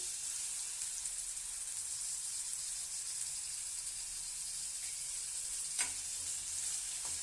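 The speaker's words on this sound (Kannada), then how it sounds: "ನೋಡ್ರಿ, ಎಣ್ಣೆ ಕಾಯ್ತಾ ಇದೆ ಚಟಪಟ ಅಂತ. ನೋಡ್ರಿ, ಈರುಳ್ಳಿ ಹಾಕ್ತೀನಿ." Onions fry in hot oil with a steady, close hiss and crackle, a soft stirring scrape and one sharper tap partway through, and no voices.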